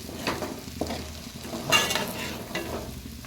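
Chicken fry with curry leaves tossed in the pan, a soft sizzle under a few spatula scrapes and stirs, close and brief.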